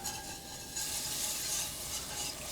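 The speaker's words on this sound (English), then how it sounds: "When your roux is cooked, turn up the heat a little because we're adding cold milk. I'm going to whisk while I do it." Cold milk is whisked into hot roux in a Le Creuset pan for croque madame, making a faint, continuous swishing and bubbling sizzle with no talking.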